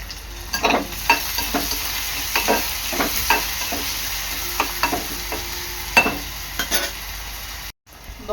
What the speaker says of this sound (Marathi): कांदा चांगला लाल होईपर्यंत शिजवून घ्यायचा आहे